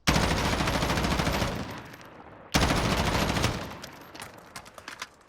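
An M4 rifle fires in Call of Duty Warzone in two sustained automatic bursts, loud and close, separated by a short gap and ending in a few scattered shots.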